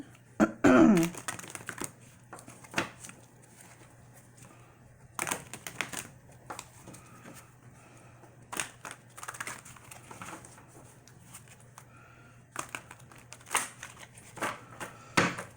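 Intermittent bursts of papery riffling and crisp slaps, tarot cards being shuffled up close, with quiet pauses between the flurries.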